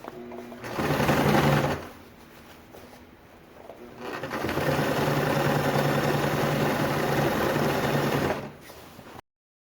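A sewing machine stitches pontoon boat upholstery in close, steady runs, with a short burst, a brief lull, then a longer continuous run before it stops.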